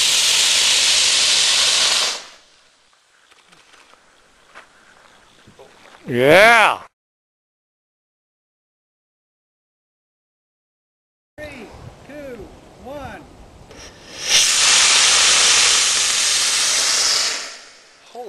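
A sugar rocket motor fires during a test, roaring as a loud, harsh hiss in two sustained bursts of a few seconds each, with people talking and exclaiming between them.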